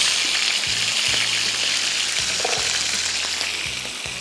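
Onions fry in a pan as the base for a gravy, giving off a steady, close sizzle that holds at an even level throughout. No one speaks over it.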